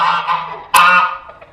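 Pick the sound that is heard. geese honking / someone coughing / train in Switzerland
geese honking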